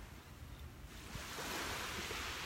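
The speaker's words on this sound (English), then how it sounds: "Pam, I could sit here all day and listen to the waves." Ocean waves wash onto a beach in a soft, broad rush that swells louder midway and holds steady, with light wind noise and no voices.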